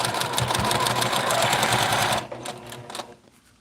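A sewing machine stitching fabric runs in a steady, fast mechanical whir for about two seconds, then slows and stops, leaving faint clicks, close and clear.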